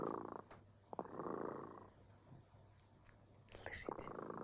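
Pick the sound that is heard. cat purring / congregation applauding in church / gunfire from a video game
cat purring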